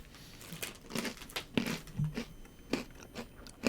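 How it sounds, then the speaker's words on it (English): Crunchy asparagus-shaped biscuits, animal-cracker-like, bitten and chewed up close with sharp, irregular crunches and crackles spaced through a few seconds. "Yeah, but very crunchy, very just an animal cracker."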